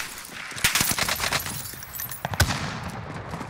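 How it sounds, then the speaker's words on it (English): Rapid video game gunfire in Warzone, a quick cluster of sharp shots followed by a few scattered louder cracks, fairly close and with no voices over it. "Who's shooting right now?"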